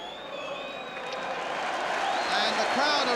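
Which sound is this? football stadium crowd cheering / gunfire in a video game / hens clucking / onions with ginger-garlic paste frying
football stadium crowd cheering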